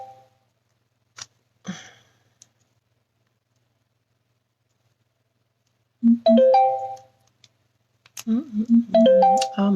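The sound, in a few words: phone notification sounds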